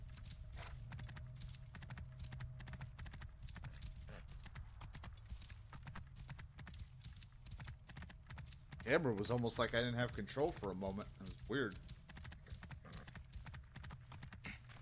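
Rhythmic clip-clop of a horse's hooves in Assassin's Creed Origins, a steady trotting patter running throughout at moderate volume, with someone talking over part of it.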